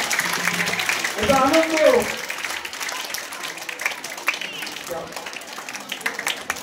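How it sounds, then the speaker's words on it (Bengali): An audience at a girls' prize distribution claps in a thin, scattered round of applause while a voice speaks over it and a brief tonal sound rises and falls early on. "হাততালি হোক, হাততালি বন্ধ হবে না"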